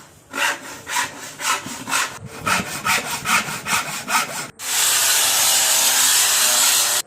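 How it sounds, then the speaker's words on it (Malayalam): A wooden plank for a boat seat is cut with a hand saw: rhythmic back-and-forth rasping strokes come close and clear, then give way to a longer, steady, unbroken scraping. "നമുക്ക് ഇരിക്കാനുള്ള പലകയാണ് നമ്മൾ കട്ട് ചെയ്തെടുക്കണേ"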